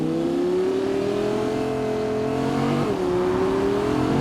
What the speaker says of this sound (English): we have the Audi R8 RWS. Ignition.